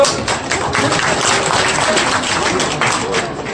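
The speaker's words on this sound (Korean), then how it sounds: "자, 박수 한번 쳐보세요" A crowd of alumni at a middle-school reunion gathering claps together in a dense, steady patter that fills the room, loud and continuous, with faint voices mixed underneath.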